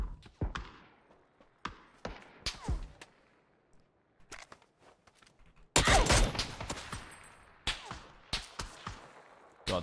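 Gunfire in PUBG, scattered sharp shots cracking out at irregular intervals, some distant and faint, with a loud dense burst of rapid fire in the middle and more single shots after, no talk.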